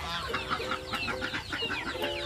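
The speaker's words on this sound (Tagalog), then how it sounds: "Kasi yan yung mga manok. Native chicken yan." Several native chickens cluck close by on a poultry farm in quick, overlapping bursts, a busy chatter of hens with a few higher calls mixed in.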